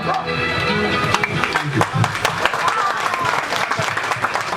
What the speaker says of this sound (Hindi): इतना बेहतरीन गाने के लिए एक बार जोरदार तालियां